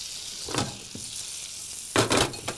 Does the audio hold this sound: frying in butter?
yes